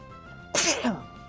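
A single sharp human sneeze bursts out close to the microphone after a quiet stretch, a quick explosive onset trailing into a short voiced tail.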